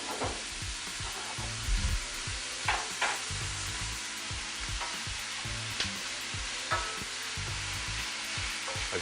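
Sliced mushrooms sauté lightly in a home kitchen pan of hot oil, giving a steady, close sizzle broken by frequent utensil clicks and scrapes as they are stirred throughout.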